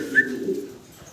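A single American Nun pigeon gives a short, low, soft coo, close by and clear, with a faint background.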